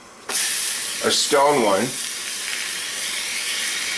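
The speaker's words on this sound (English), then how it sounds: "So I'll pop these in a pan that's heating up right now." Chicken pieces hit a dry, ungreased stone pan, giving a sudden loud steady hiss and sizzle that carries on throughout, with a short burst of speech over it.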